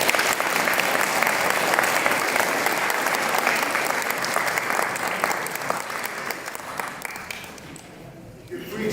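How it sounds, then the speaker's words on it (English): An audience at a church election debate claps in a long, dense round of applause that holds steady before thinning out near the end, loud and close, with faint voices underneath. "So a round of applause."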